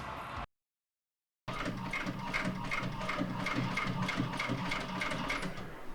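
A sewing machine at a sewing business runs in a fast, even mechanical chatter after a second of silence, loud and close with no voices over it.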